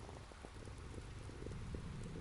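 Rain falls steadily beyond a large window, a soft, even hiss dotted with quiet drop taps, faint and unbroken with no voices.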